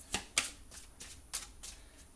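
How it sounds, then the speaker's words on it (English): A deck of tarot cards is shuffled close up, giving about six or seven crisp riffling bursts in an uneven rhythm with short pauses between them. There is no talking. "Shuffling and shuffling."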